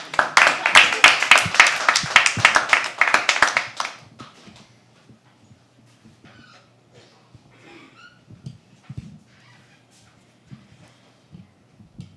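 A poetry open-mic audience claps loudly and densely for a few seconds before the applause stops, leaving scattered faint taps and rustles in a quiet room.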